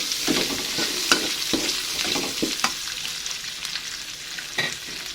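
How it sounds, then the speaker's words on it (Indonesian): Oncom sizzling and frying in a pan with spices, stirred with a spatula, giving scattered scraping clicks over a steady close crackle. "Aduk-aduk."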